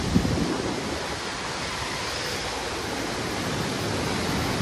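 Continuous broadband rush of river water flowing at the gates of the Koshi barrage, steady and fairly loud with a faint buffeting of wind, no voices present.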